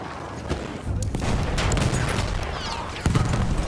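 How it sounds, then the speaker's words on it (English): Explosions and gunfire in the World War I shooter Battlefield 1, with a dense, continuous battle roar and heavy blasts near the start and again toward the end, under faint voices. "Bomba atıyorum, çabuk olun."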